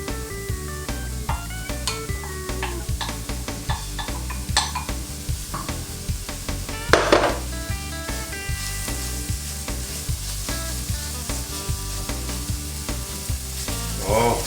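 Brisket is stirred into a pan with roasted Hatch chilies, giving a close, continuous sizzle broken by frequent clattering scrapes and knocks of a utensil against the pan.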